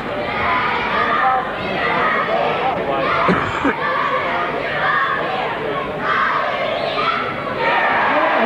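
Cheer squad and crowd at a 1985 NBL basketball game between Adelaide and Brisbane at Apollo Stadium, a loud, continuous mass of shouting and cheering during a timeout, filling the whole stretch.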